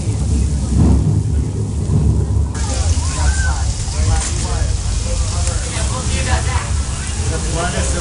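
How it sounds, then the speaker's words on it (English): Thunderstorm effect on the Universal Studios Hollywood studio tour: loud roaring rain and rumbling thunder fill the whole stretch, with a sharp crash surging in partway through. "we got a big storm moving in"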